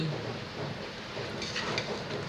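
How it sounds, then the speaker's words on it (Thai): A steady wash of rain hisses throughout, loud and continuous, with no talking. "ฝนตกนะคะท่านผู้ชมเสียงก็จะดังหน่อยนะคะ"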